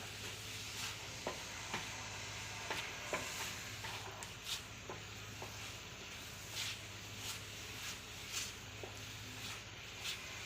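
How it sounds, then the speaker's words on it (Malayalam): Beetroot mixed with semolina and milk is stirred in a pan on the stove until thick, giving a soft continuous sizzle and hiss with faint scraping taps of the spoon at irregular intervals. "എല്ലാം നല്ലതുപോലെ ഇളക്കി നമുക്ക് യോജിപ്പിക്കണം തിക്കായി വരുന്നത് വരെ നമുക്ക് ഇളക്കി കൊടുക്കാം"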